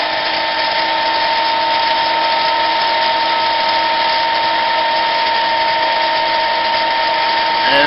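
A Harbor Freight 7x10 mini metal lathe running at about 600 RPM while drilling a lubricated starter hole, giving a steady, loud, close whine with a constant motor hum that holds evenly throughout.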